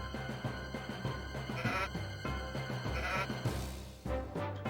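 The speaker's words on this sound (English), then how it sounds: "And sheep." Sheep bleat repeatedly in a Sega Saturn video game, several short wavering calls over a looping background music track with a rhythmic beat.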